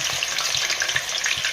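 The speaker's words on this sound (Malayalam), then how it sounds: "കായ വറുത്തെടുക്കാനായിട്ട് നമ്മൾ അതിനകത്തേക്ക് വെളിച്ചെണ്ണ ഒഴിക്കുക." Slices of raw plantain frying in hot coconut oil, a dense, steady crackling sizzle with soft rhythmic stirring thumps underneath, close and continuous.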